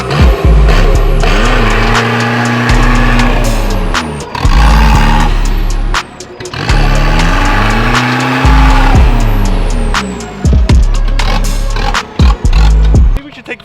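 A TDI car revs hard in repeated loud surges with screeching tire spin during a burnout on a slushy road, engine pitch rising and falling across several bursts.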